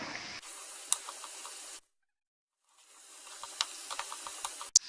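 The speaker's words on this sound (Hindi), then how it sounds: "इनको नरम होने तक और गोल्डन ब्राउन होने तक फ्राई करना है" Pieces of garadu yam fry in hot oil with a steady hissing sizzle and small crackling pops. The sound cuts out for about a second, then the sizzle returns, ending in a sharp clank.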